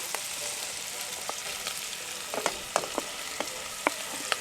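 Onion frying in a pan with browned sausages over a campsite cook setup, a soft steady sizzle punctuated by sharp crackles and pops, fairly quiet and close.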